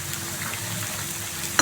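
Paneer 65 pieces fry in hot oil with a steady, dense sizzle and crackle, close up, with no talking.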